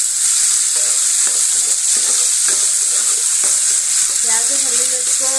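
A spoonful of cumin seeds crackles in hot ghee in a pan, a loud, continuous hiss with faint popping throughout and no talk.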